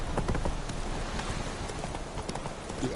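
The horse Roach gallops in The Witcher 3 video game, a steady rapid clip-clop of hooves running under a dense, loud bed of game ambience and music.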